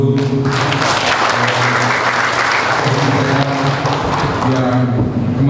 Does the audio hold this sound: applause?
yes